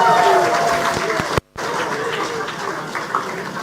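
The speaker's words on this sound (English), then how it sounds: "a round of applause for Helen Folk Dancers" An opening ceremony audience at a St. Lucia–Taiwan trade show applauds the Helen Folk Dancers. Steady crowd clapping with some speech mixed in breaks off in a brief dropout, then resumes slightly quieter.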